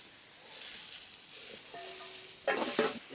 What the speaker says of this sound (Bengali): এইভাবে আস্তে আস্তে নাড়াচাড়া করতে হবে, তাইলেই মিডিয়াটা গলিয়ে যাবে